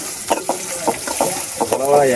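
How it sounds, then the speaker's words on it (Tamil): Tomato mixed with water spluttering and crackling in hot oil, with a steady sizzle broken by sharp bursts of popping close by; a voice is briefly heard near the end. "தக்காளி தண்ணியோட கலந்து போட்டீங்க, அதனாலதான் அப்படி தெரிச்சிருச்சு."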